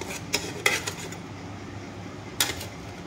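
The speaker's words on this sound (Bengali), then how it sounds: "এখানে 3 চামচ ছোট চামচে সাদা তেল দিয়ে দিলাম" Small spoon clinking against a pan while white cooking oil is added in a rajma chawal kitchen, a few sharp metallic taps and scrapes close by, then quiet.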